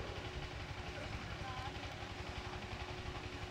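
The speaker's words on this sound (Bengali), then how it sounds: "এ ভটভটি তো শব্দ খুব" A loud bhotbhoti motor engine thumps steadily nearby at a gathering for an Islamic sermon, a low, fast, even idling throb that fills the whole stretch.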